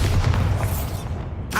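A Bombarda spell explodes in Hogwarts Legacy, a muffled low boom with a rumbling tail that fades over a second or so, then a brief swish.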